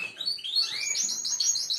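Caged canaries chirp and tweet rapidly in a busy, high-pitched twitter, close by, without any voices.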